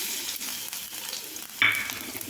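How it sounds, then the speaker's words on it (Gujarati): Mustard seeds crackle and sizzle in hot oil, a soft continuous frying hiss with a sharper burst of crackling near the end. "તેલ ગરમ થઈ ગયું છે એની અંદર આપણે રાઈ એડ કરીશું રાઈને તતડવા દઈશું"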